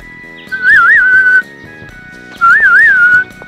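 Two clear whistled phrases with a wavering, trilling melody from the Tales of Destiny remake's forest music, loud and separated by a short gap, layered over soft background instrumental accompaniment.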